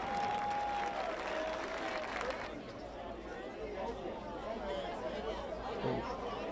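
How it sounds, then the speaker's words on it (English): Spectators at the 2008 PDGA Professional Disc Golf World Championships applaud a throw outdoors, a faint scattered clapping mixed with crowd chatter, distant and soft, with a brief whistle-like tone early on. "And he'll get an applause for that."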